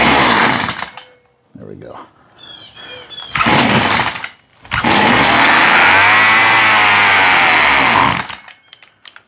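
A Husqvarna 142 chainsaw with a replaced carburetor runs and revs loudly up close, its engine surging in repeated bursts with short pauses between them, and someone speaks briefly.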